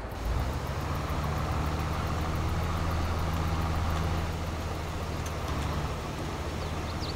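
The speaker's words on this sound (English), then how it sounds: "the sound that the tractor makes when it's unfolding the wings is awesome" A tractor in Farming Simulator 22 unfolds its wings over a loud, continuous engine drone, with steady low rumble and mechanical whir throughout and no speech.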